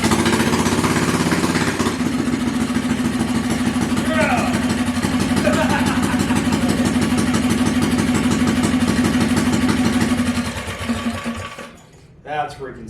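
A big block FRP mini bike engine fires up for its first start and runs at a steady, rapid idle, loud and close, before cutting off near the end.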